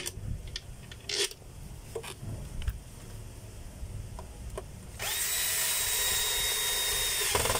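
A power tool drives screws into a field housing. Scattered handling clicks and taps come first, then a steady, high-pitched motor whine runs for a few seconds, close by.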